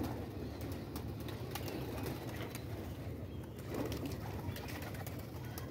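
Pigeons coo and shuffle nearby, soft low calls scattered against a faint outdoor background, with a few sharper clicks and a brief flutter.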